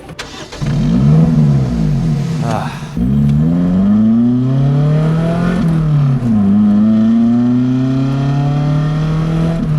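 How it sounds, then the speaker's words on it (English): A Lotus Elise sports car drives up a mountain pass toward Engelberg. Its engine is heard from inside, revving loud and close, with pitch climbing through gears and dropping briefly at each shift. "I'm riding in the Lotus Elise today."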